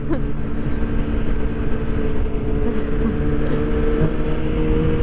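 A Yamaha MT-09 motorcycle engine drones and revs nearby, a loud, steady rumbling hum with sustained harmonic tones and little variation.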